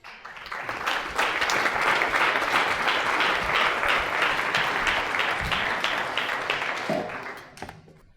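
A seated audience at an evening storytelling event applauds to welcome a female graph theory researcher to the stage. The clapping is loud and sustained, swelling quickly, holding for several seconds and then tapering off near the end.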